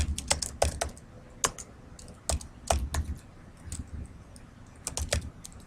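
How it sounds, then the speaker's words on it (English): Computer keyboard typing comes in quick clustered bursts of crisp, close keystrokes separated by short pauses, entering text into a Word SmartArt box, with no talking. "now it says click text in the top box and type Terry Blessing"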